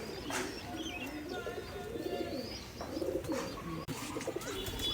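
A pair of Kaldam pigeon chicks at a home loft, with steady soft cooing and throaty calls close by, joined by occasional higher chirps, continuous and without talk.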